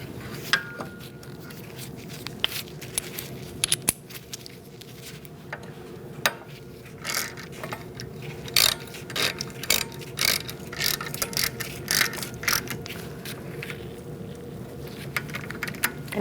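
Ratcheting clicks from a hand tool snugging a screw on the rear wheel hub of a 2008-2014 Mercedes-Benz C300 during a wheel bearing replacement, irregular close metallic clicks and taps over a steady low workshop hum.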